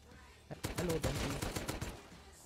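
Gunfire in the video game Rust, a rapid burst of several loud close shots in quick succession, with a voice briefly underneath.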